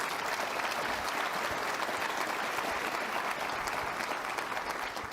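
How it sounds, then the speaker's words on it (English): Sustained audience applause at the AIM for Climate Summit, a dense, steady clapping from a sizable crowd filling the room evenly for several seconds, fairly close and loud, with no speech over it and only a slight easing at the end. "These two women have done an amazing job, so I'd like you to give them a round of applause"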